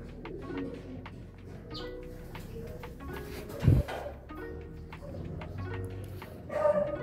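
Pigeons in an outdoor Quezon setting give scattered low coos amid a busy ambient background of rustling and faint ticking, with a brief loud thump partway through and another swell near the end.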